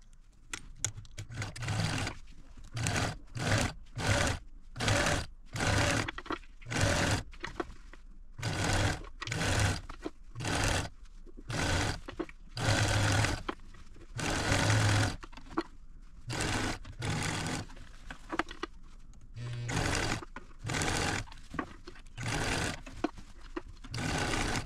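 Sewing machine stitching around a quilted gift bag, running in repeated bursts of rapid whirring separated by short pauses, close and clear.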